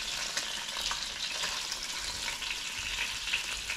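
Sausage, mushrooms and tomatoes sizzling together in a frying pan for a breakfast wrap, a steady dense crackling hiss with small pops, close and loud, no talk.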